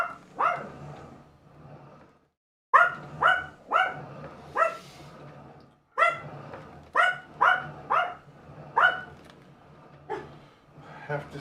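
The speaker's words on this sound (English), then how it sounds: "He's gonna do a little bit of barking." A dog barks in short bursts of two or three, pausing between volleys, fairly close and loud with no talking.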